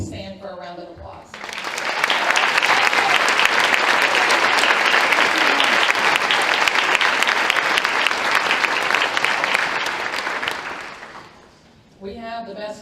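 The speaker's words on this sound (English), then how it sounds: "If our Cape Henry coaches could please stand for a round of applause." Audience at a high school spring athletic awards and senior recognition ceremony applauds coaches standing, a long, loud, sustained round of clapping lasting about ten seconds, with a speaker's voice briefly before and after.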